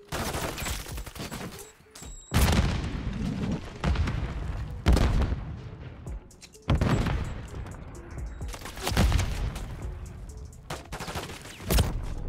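Call of Duty MW3 multiplayer match with rapid, repeated bursts of gunfire and heavy booms, loud and close, broken by short gaps and a few faint voices underneath.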